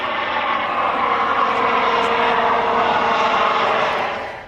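Helicopter flying overhead, a loud, steady roar of engine and rotor that holds and then fades at the end, with no voices.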